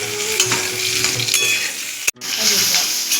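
Taro leaves fry in hot oil with a loud, steady sizzle and crackle, close up, briefly cutting out for an instant midway.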